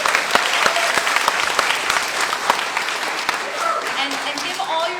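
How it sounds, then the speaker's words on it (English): An audience at an art and poetry awards celebration claps steadily in a dense, continuous wash, with a few sharper individual claps and faint voices mixed in. "Let's give her a round of applause again."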